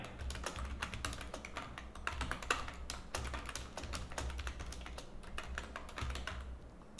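Someone types on a computer keyboard at a desk, close and quiet, with rapid irregular key clicks running steadily the whole time and no voices.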